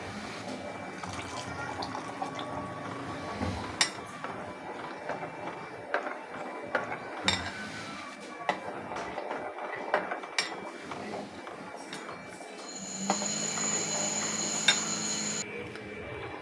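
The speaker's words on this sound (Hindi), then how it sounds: "अब हम इसमें कस्टर्ड पाउडर डालते जाएंगे और इसको चलाते जाएंगे" Custard powder is stirred into just-boiled milk in a pot for a mango dessert: soft scraping and light metallic clinks of a spoon against the pot, steady and close, with faint background hum.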